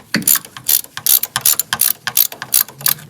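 Ratchet wrench loosening bolts on the engine of a 1967 VW Karmann Ghia abandoned for 45 years, giving rapid, loud, close clicking bursts in an even rhythm of about a dozen strokes, with no voices.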